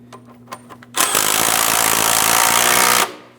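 An impact or power tool runs up starter mounting nuts on a 2005-2010 Chrysler 300 5.7L V8, sounding as a loud, close, continuous rattling buzz for about two seconds after a few light clicks and taps.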